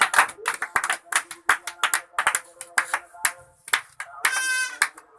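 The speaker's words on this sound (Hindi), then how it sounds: "तड़के ताली बजा, पहला ताली बजा।" Scattered hand claps from an audience at a village magic and comedy show, sharp separate slaps arriving in an uneven rhythm, with a performer's voice talking loudly between and over them.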